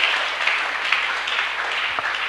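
A church congregation claps together during a sermon, a steady dense wash of applause held at an even level for the whole stretch, with no voices standing out.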